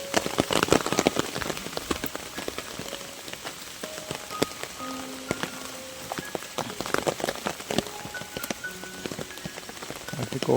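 Heavy monsoon rain falls across Konkan countryside, drops pattering densely and irregularly on nearby surfaces and leaves, a steady close downpour with no talking.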